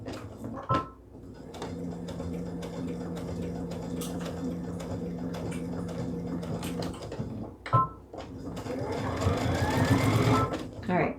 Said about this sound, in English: You just want to, sew it down really good. So I'm just going to do that a few times.